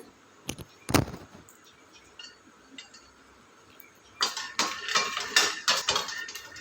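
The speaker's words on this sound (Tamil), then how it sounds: "அந்த ஃப்ரைங் பேனில் வந்து கால் கப்பு வேர்க்கடலை சேர்த்துட்டு நல்லா வறுத்துக்கிறலாம்" Raw peanuts roast in a frying pan over a medium flame, making sparse clinks and taps at first, then busier, louder rattling and scraping as they are stirred, close by with no talking.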